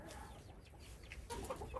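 A rooster clucks beneath a temporary livestock shelter on a goat homestead, giving faint, scattered calls over a low rumble of background noise that turn a little louder and busier toward the end.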